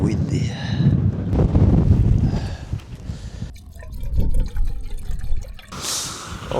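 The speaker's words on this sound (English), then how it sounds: "It's so windy." Strong wind buffets a campsite, roaring as broadband gusts with heavy low rumble against the microphone, easing and surging over several seconds, with brief voices and drip-like sounds mixed in.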